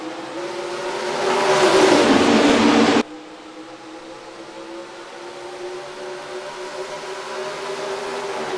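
Race cars in NASCAR Racing 2003 roar loudly together at the green flag start in Texas, then the roar cuts to a steadier, quieter engine drone of a pack at speed.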